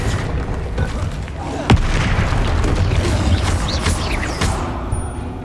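A Confringo explosion spell cast in Hogwarts Legacy, a sharp blast standing out against a dense, rumbling layer of magical combat effects and continuous game noise.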